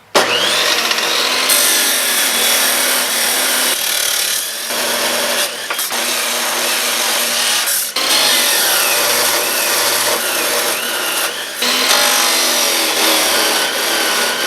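A Bosch GCB 18V-127 cordless band saw cuts through material, a loud, steady high-pitched grinding whine running in long passes with short pauses between cuts, close by and with no talking.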